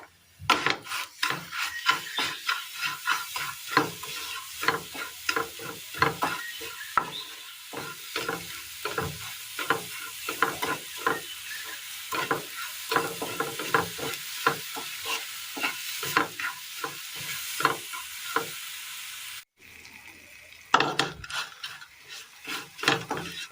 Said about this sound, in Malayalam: ഇനി ഇതിലേക്ക് തേങ്ങ തിരുമിയതിട്ട് കൊടുക്കാം.